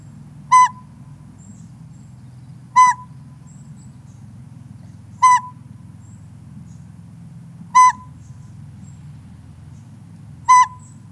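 A northern pygmy owl gives five single, evenly spaced high whistled toots about every two and a half seconds, clear and close over a low steady background hum.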